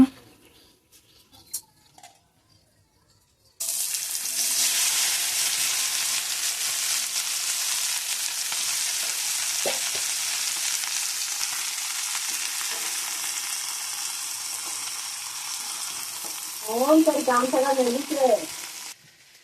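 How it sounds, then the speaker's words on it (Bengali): Sliced okra with onion and green chilli hits hot oil in a wok and breaks into a loud, continuous sizzle after a quiet start, with a brief stir of the pan near the end. "এখন করব ভেন্ডি ভাজা।"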